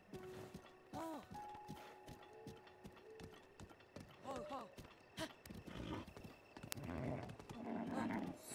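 A horse's hooves clip-clop in Zelda: Breath of the Wild, a steady rhythmic patter of in-game gallop beneath the player's voice, with a neigh and other game effects mixed in.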